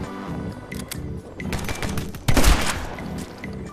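Shotgun blasts from My Friend Pedro gameplay, a rapid run of loud bursts with a heavier boom near the end, alone without talk.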